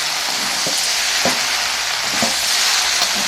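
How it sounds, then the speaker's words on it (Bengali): Chicken and green jackfruit sizzle steadily in a hot pan, with a few soft scrapes from stirring and no talking. "পর চিকেনটিকে আমি এঁচোড়ের সাথে ভালো করে আবারও কষবো।"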